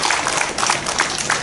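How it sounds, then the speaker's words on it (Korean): Applause from an audience at a residents' redevelopment meeting, a steady burst of many hands clapping that stays fairly loud and even for its short length, with no talk over it. "하여튼 박수 한번 쳐주세요"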